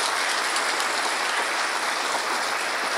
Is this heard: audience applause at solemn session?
yes